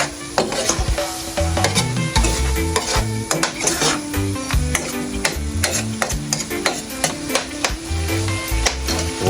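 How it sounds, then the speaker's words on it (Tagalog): Food being stirred in a hot cooking pan, with steady frying sizzle and repeated sharp scrapes and clanks of the utensil against the pan, close and fairly loud throughout. "Haluin lang natin."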